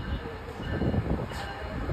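MARC commuter train passing at New Carrollton station, a loud steady rumble and rolling wheel noise close by, with faint voices underneath.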